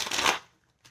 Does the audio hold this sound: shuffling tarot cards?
yes